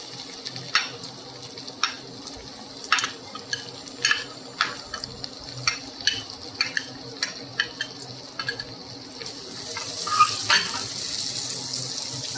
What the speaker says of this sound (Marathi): आता आपण ह्याच्यात कांदा भाजून घेऊ.